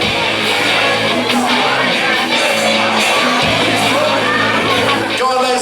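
A crowd cheers and shouts encouragement at a kayak race in a swimming pool at a Land Rover owners' show, with continuous whoops and yells blending into a busy, reverberant din.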